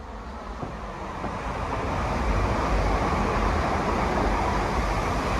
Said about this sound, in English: Here comes a train, so let's listen out for the train.